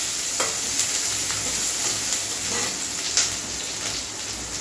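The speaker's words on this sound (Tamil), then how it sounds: "ஆனியன் பொன்னிறமாக இருக்கிற வரைக்கும் ஃப்ரை பண்ணி விட்டுருங்க." Onions frying in a pan until golden, a dense, even sizzle close by with a few soft stirring taps and scrapes rising briefly above it.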